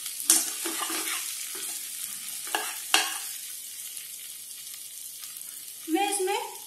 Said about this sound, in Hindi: सब्जी को पकते हुए 2-3 मिनट हो गया है। हम इसको चला देंगे।